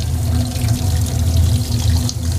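Half a cup of cold water pours steadily into homemade semolina pasta dough, a continuous close splashing flow that lasts throughout with no talk.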